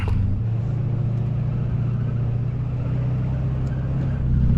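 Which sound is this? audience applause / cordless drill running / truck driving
truck driving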